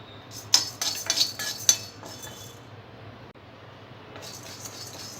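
A spoonful of toor dal dry roasting in a pan on the stove: a quick burst of metallic clinks and scrapes in the first couple of seconds, then a quiet steady hiss with no talking.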